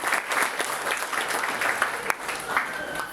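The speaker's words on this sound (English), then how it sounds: "Ladies and gentlemen, a round of applause," An audience at a college golden jubilee night applauds, a dense, steady patter of many hands clapping, loud and continuous throughout.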